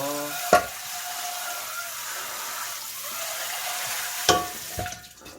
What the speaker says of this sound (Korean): 불린 미역에서 미역만 따로 건져내가지고 중간 불로 볶아줄게요